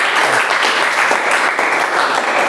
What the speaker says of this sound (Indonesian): Oke, bagus sekali, kita beri tepuk tangan untuk Mas Rizky ya